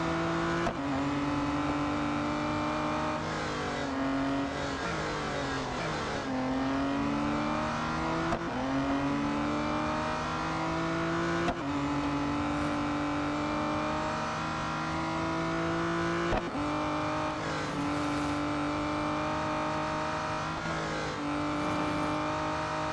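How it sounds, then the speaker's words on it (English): Race car engines roar in the Real Racing 3 video game, a continuous loud whine repeatedly rising in pitch through the gears, then dropping with each shift, over about twenty seconds with no talk. "Now this is a good engine noise."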